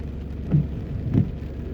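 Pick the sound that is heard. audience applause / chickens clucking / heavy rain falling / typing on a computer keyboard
heavy rain falling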